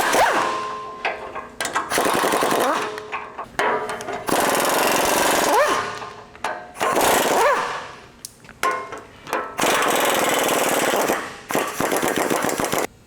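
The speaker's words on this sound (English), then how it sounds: "We're going to go ahead and loosen these bolts, not remove them completely. This is just a 15mm socket." Bolts on a Ford Bronco front bumper loosened with a 15mm socket on a power tool, loud bursts of rapid rattling hammering in repeated stretches with short pauses between.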